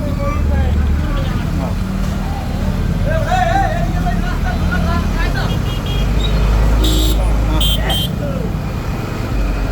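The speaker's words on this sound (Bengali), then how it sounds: "ট্রাকে মাছ লয়, যে কারণে জ্যামটা একটু বেশি লেগে থাকে।" Dense road traffic jam at Mohipur–Alipur, with trucks hauling fish and buses crowding the road: a steady, loud engine and traffic rumble with scattered horn toots, under continuous nearby talk.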